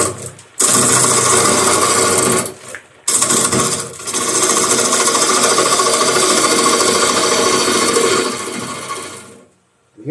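A smaller wood-turning gouge cuts into the bottom of a bowl spinning on a lathe, giving a loud, continuous rough scraping hiss with a couple of brief breaks early on before it trails off at the end.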